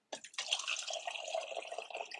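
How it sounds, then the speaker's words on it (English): Tap water runs steadily into a container, a bright, close stream with a hissing, splashing tone that starts abruptly and continues for a couple of seconds. "I'm going to get some water."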